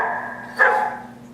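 A single short dog bark played from an iPad animal-sounds app, faint and slightly tinny over a steady background hum.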